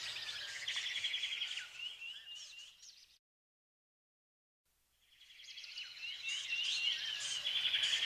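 Birds chirp and sing in a green forest beneath Mount Kenya, bright calls trilling over a faint insect hum, dropping to near silence midway before the chorus swells back louder.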